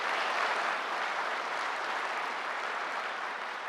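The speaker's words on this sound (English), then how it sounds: "give them a round of applause" Sustained applause from a conference audience at a health and safety representatives event, steady and dense throughout with no voices over it.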